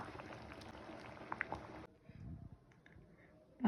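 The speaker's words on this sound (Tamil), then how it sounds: "கொஞ்சம் கொஞ்சமாக கெட்டியாகுது, நல்லா கொதிக்குது பாருங்கள்." Tomato jam bubbling and thickening in a pan, with soft, close bubbling and popping that is fuller at first, then drops to quieter, sparse pops before a brief louder sound at the end.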